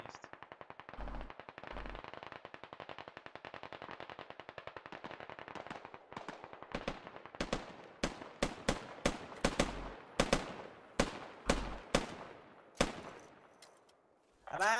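Video game gunfire: a long, fast, even machine-gun burst, then a run of separate heavy single shots with echoing tails, loud and close, ending in one more abrupt shot.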